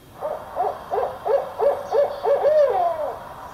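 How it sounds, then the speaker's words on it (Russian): Tawny owl call: a run of about seven rhythmic hoots, evenly spaced and fairly close, ending in a longer drawn-out wavering note, with no talking over it. "Зов пестрый неясыти."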